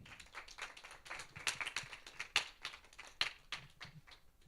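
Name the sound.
audience applause welcoming a speaker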